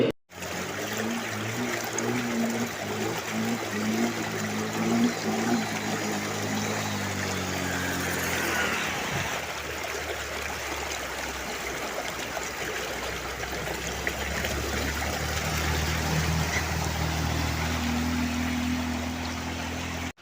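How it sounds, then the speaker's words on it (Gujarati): Swollen river water near Balasinor rushes over a flooded low road causeway as a steady, close, broadband roar and gurgle that runs unbroken throughout, with a faint engine hum underneath. "ડીપ ઉપર આટલું પાણી છે તો પણ ઇકો ગાડી ચાલી રહી છે"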